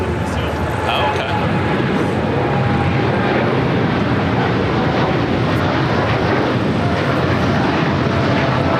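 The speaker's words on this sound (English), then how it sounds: "That was American Airlines Flight 27 heading to Tokyo Haneda. The 787-8 Dreamliner." An American Airlines Boeing 787-8 Dreamliner jet taking off at LAX, a loud, sustained engine roar that holds steady throughout, with voices faintly present beneath.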